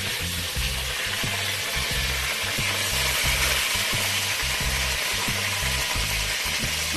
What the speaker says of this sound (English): Now I'm going to put in my